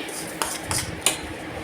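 Metal spoon stirring vermicelli payasam in a pot, with three light scraping clinks against the pot's side at a steady pace and a soft bubbling hiss underneath.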